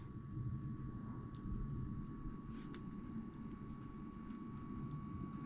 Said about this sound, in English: Sounds like Shannon has the heat on